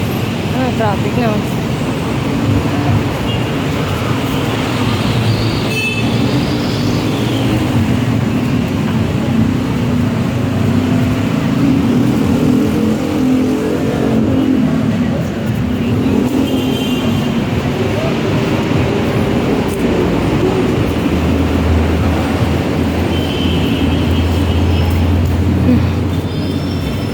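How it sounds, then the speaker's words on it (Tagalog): Steady, dense rumble of stop-and-go city traffic in Manila fills the whole stretch, heard from inside the flow, with a low engine drone rising near the end and voices talking faintly over it. "Traffic na."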